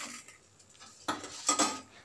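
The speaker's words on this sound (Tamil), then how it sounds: "பால் ஊற்றினதும் கலந்து விட்டுக்கிறேங்க." A metal spoon scrapes and clinks against a cooking pot of milk for semiya payasam in a few quick strokes, with quiet gaps between them.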